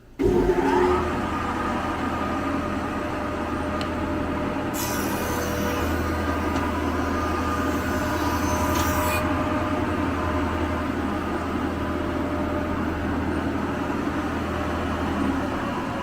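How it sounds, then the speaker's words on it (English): A woodworking machine motor planing a board down to 14/16 inch thickness runs as a steady, close, continuous hum, with a brighter burst of hiss partway through as the cut passes. "Turn on the motor."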